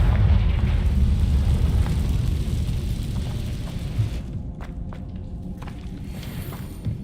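Confringo explosive spell in Hogwarts Legacy: a heavy, rumbling blast that opens loud and decays slowly into a low roar, with scattered sharp cracks and pops as it fades, and no talking.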